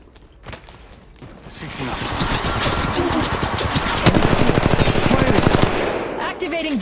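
Rapid automatic gunfire from a shooter video game, Apex Legends Mobile, bursts dense and loud throughout, with sustained rattling strings of shots building in intensity toward the end.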